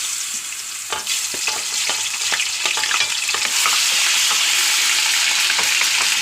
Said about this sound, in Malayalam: എണ്ണ കാഞ്ഞു എനിക്ക് വെളുത്തുള്ളി ഇഞ്ചിടുന്നു